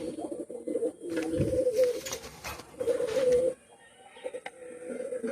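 Pakistani master bloodline pigeons cooing up close: soft, throaty, rolling coos come in bursts with short pauses between them, clear and alone with no talking.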